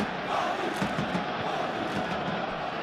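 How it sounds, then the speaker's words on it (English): Stadium crowd noise from a PES football match, PSG versus Liverpool in the Champions League, a steady broad roar with chanting swells held at an even level throughout without clear breaks. "Now the crowd are demanding that they just finish this off"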